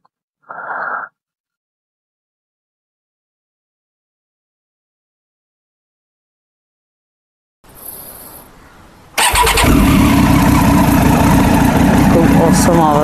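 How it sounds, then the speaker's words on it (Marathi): A motorcycle engine is cold-started after sitting unused for many days: a brief blip, then a cranking burst, and the engine catches into a loud, steady idle. "सो आता हिला कोल्ड स्टार्ट करूया"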